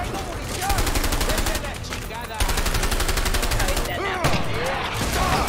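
Dense, continuous gunfire from a co-op action video game: rapid machine-gun bursts and volleys fill the whole stretch, loud and close, with a player talking over them.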